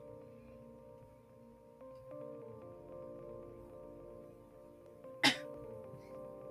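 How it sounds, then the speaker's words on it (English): A single sharp cough breaks out once, brief and fairly close, over a steady low background of sustained tones. "Good cough."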